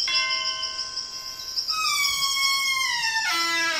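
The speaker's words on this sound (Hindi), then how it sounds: "चलो घंटी बजाए।" A cartoon doorbell rings out at a house on a spooky night, bright sustained chime tones sliding and sounding together, clear and fairly close with no talking over it.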